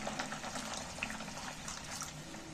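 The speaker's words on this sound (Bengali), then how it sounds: "আলুগুলো সেদ্ধ হওয়ার জন্য আরো খানিকটা জল দিয়ে দিচ্ছি" Water splashes and gurgles as more is poured into a pot of potatoes being cooked with spices, a short, continuous liquid rush heard close by.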